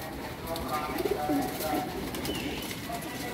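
Pigeons kept as breeding pairs coo softly in a low, rolling murmur, fairly quiet and steady throughout, with a faint background hum.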